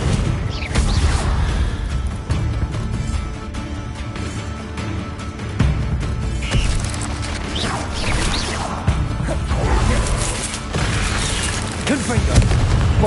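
Spell explosions in Hogwarts Legacy burst and crash continuously in dense, booming layers while a voice talks over the combat throughout.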